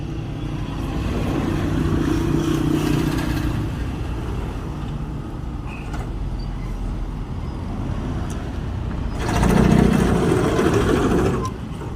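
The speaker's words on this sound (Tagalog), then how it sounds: "nasa tabing kalsada lang tayo kaya maraming dumadaan" Roadside traffic passes continuously, with cars and motorcycles rumbling by nearby and one louder vehicle swelling past toward the end.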